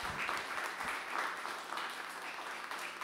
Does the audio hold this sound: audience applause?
yes